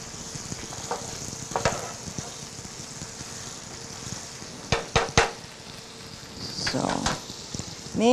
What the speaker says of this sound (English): And we're going to cook this down. Till the onions are translucent,